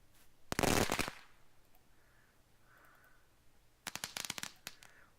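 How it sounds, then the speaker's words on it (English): Sound effect of things popping and hitting the ground: a dense burst of sharp crackling impacts, a quieter gap, then another rapid cluster of loud pops and clatters. "This one could be things hitting the ground."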